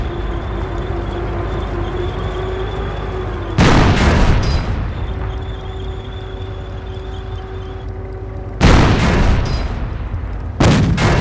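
Tank cannon shots in the Company of Heroes video game striking a Panzer's rear armor: two sharp, loud booms a few seconds apart, each followed by a short rumbling tail, over a steady low battlefield drone.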